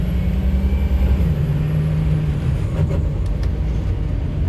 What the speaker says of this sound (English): It's got a little bit of a flutter when you let off, and typically that's what a aftermarket turbo sounds like